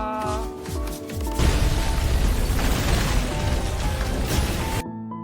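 A loud explosion in a bank-heist film scene bursts in after a brief musical lead-in, a dense broadband roar and rumble sustained for several seconds before cutting off abruptly.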